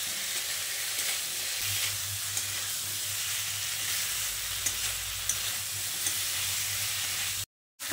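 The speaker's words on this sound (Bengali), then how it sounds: "আলু ও পটলগুলো দিয়ে মশলার সঙ্গে ভালো করে মিশিয়ে নিচ্ছি।" Fried potatoes and pointed gourd being stirred into spices in a pan for a Bengali vegetarian curry, giving a steady, even sizzle with faint scraping throughout and a brief dropout near the end.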